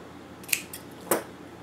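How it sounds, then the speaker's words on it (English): Two crisp snips of scissors trimming ribbon for vintage Halloween embellishments, close and isolated, spaced about half a second apart in a quiet room. "actually I think this is too long, so let me trim it a little bit."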